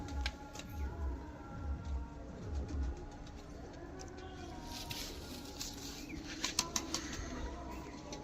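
Fulsira pigeons, a line brought from Andhra, coo in low repeated pulses at close range, with a few soft wing flaps later in the clip, while someone talks over them.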